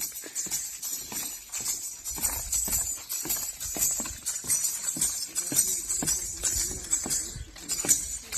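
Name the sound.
decorated white mare's hooves clip-clopping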